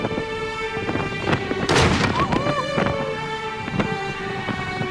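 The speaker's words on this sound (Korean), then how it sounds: "크루즈가 왔다 갔다 하는 시간이기 때문에 크루즈에게 인사하는 의미로 이제 쏘고 있습니다." Ceremonial cannon salute fired at 4 o'clock in Valletta, Malta, to greet an arriving cruise ship, several distant booms over a steady droning background with no voices.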